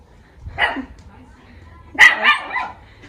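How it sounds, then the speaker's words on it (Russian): A small dog barks in a fenced residential courtyard of old houses in Odessa's Moldavanka district, two short bursts about a second and a half apart, moderately close, with faint background murmur between. "что-то маленькое здесь лает"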